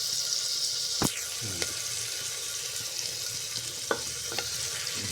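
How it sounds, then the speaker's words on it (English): Cinnamon and cloves frying in hot oil for an Assamese egg rice, a soft steady sizzle with a few sharp spits and crackles, close and fairly quiet. "দালচিনি long অলপ fry কৰি আছোঁ"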